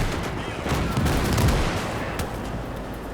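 Mortar fire in the World War II strategy game Gates of Hell, Finland campaign, comes as a loud, dense, continuous barrage of rumbling blasts mixed with crackling gunfire, with no pause.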